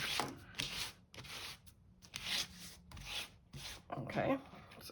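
Tim Holtz Distress Oxide ink pad rubbed across paper in repeated close, scratchy strokes, each lasting about half a second with short pauses between.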